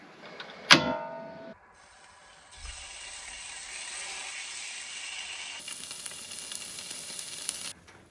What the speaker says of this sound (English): I'm outside just about to spark up the grill and cook some fish.